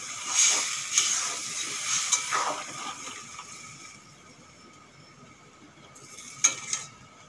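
Water poured into a hot pan of taro stolons frying with turmeric, salt and cumin powder gives a bright hiss that swells early with a few clinks, then fades to a low simmer before a brief late burst.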